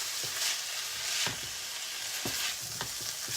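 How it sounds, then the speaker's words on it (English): Butter chicken pieces brown in a hot pan on a large back stove element, with a steady sizzle broken by several sharp scraping stirs of the utensil. "Alright, so we're just browning this up"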